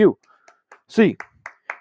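Sign-off eight clap on a UCLA Bruins podcast: a few sharp, evenly spaced claps land between short voiced bursts, close up and distinct against a quiet background.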